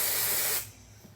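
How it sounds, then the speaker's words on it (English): A single long burst of aerosol hair spray hisses loudly and close for about half a second, then stops sharply, leaving quiet room tone. "let me spray my hair down a little bit."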